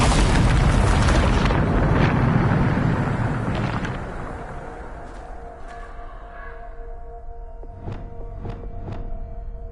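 A Bombarda spell blast in Hogwarts Legacy on PS5 bursts with a loud, wide roar that rumbles and fades over several seconds, followed by a few faint, sharp ticks, with no voices.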